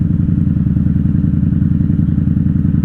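A 1994 Honda Magna 750 (VF750C) motorcycle engine idles close by with a steady, loping throb that pulses rhythmically and never changes pace.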